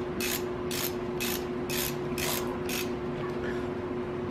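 A ratchet clicks in quick repeated bursts, about six strokes, snugging 3/8 bolts with washers against a gasket on a 390 Ford stroker engine build, close and loud over steady shop hum.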